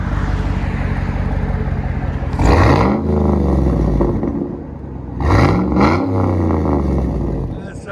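A GMC Yukon Denali with a 6.2L V8 and a Flowmaster Super 10 or deleted muffler revs twice. Each blip rises loud and deep through the exhaust and then falls back to a rumbling idle between pulls.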